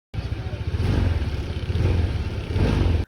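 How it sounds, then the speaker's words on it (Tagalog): Honda ADV 160 motorcycle engine just after an oil change, turning over and running: a loud, close, steady chugging idle with rapid low pulses and some mechanical rattle, stopping abruptly at the end. "Nagulat ako bakit ayaw mag-start ng motor ko."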